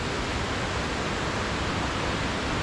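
Whitewater at Nantahala Falls roars as a dense, steady rush that is loud and close, with no breaks and no voices.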